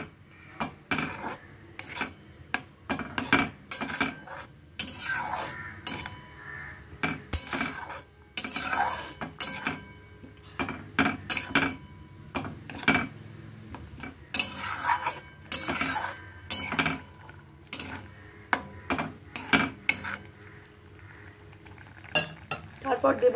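Poppy seed paste stirred in a cooking pan with a spatula, producing rapid, irregular scraping and clattering strokes against the metal, close and fairly loud, with faint sizzling beneath throughout.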